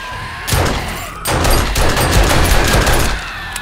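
Loud, dense gunfire from the video game 7 Days To Die (Alpha 21, Darkness Falls mod), a rapid continuous volley starting abruptly, briefly pausing, then resuming as sustained close bursts without speech.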